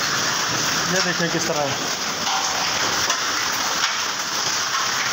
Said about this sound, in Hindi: फुल बड़े बड़े औले पड़े हैं आज।